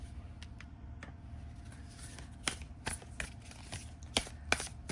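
Soft riffling and flicking of a card deck being shuffled, quiet and close, with a few sharper snaps near the end.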